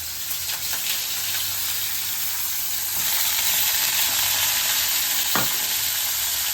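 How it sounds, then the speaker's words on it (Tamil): Dried fish (karuvadu) frying in hot oil with crackling mustard seeds gives a steady, dense sizzle throughout, with one brief sharper pop near the end; no one talks. "கடுகு நல்லா பொரிஞ்ச உடனே கருவாடை போட்டுக்கலாம்"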